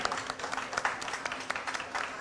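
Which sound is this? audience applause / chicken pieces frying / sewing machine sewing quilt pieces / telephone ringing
audience applause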